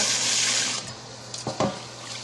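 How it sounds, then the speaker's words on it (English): Water poured over rice to rinse out the starch, then drained, as a steady rush of running water that fades, followed by a few brief sloshing splashes as the water drains away. "all you do is just pour the water there carefully and let it drain"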